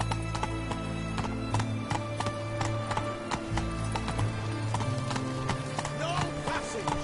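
Roach, a horse in the video game Witcher 3, gallops with rapid, steady clip-clopping hooves in a close and continuous rhythm, over a low background hum and game ambience.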